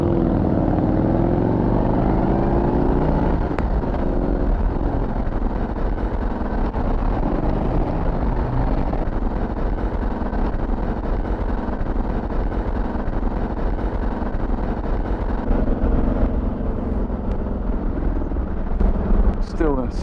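A 2024 Harley-Davidson Road Glide engine rumbles steadily while riding in first gear, a loud continuous drone mixed with heavy wind buffeting, with someone talking over it throughout.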